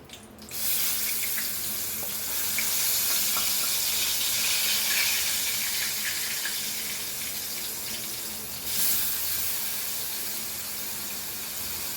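Potato skins dropped into a small amount of hot oil give a loud, steady hiss that rises sharply at the start and runs on without a break, with a brief flare of sizzle near the end.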